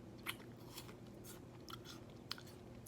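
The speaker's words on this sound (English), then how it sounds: "And also when I chew, it makes a sound, right?" Crisp apple slices are chewed right beside the microphone, quiet wet crunches and bites repeating irregularly over a soft room hiss, with no one speaking.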